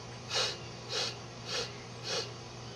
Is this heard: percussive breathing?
yes